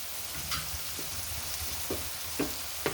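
Small dried fish fry in a pan with masala, giving a quiet, steady sizzle with a few soft stirring scrapes and taps over a low background hum.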